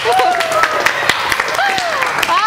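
An audience claps for a PON athlete at a fencing event, a brief burst of applause with a voice speaking over it.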